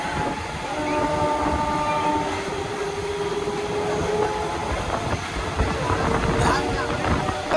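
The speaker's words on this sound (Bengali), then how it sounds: "আর এখন আমরা ধরেছি খড়গপুর লোকাল" A Kharagpur local train out of Howrah rolls along with a loud, steady rumble, with rattling wheel clatter and faint tonal whines throughout the ride.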